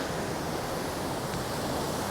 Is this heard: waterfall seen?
yes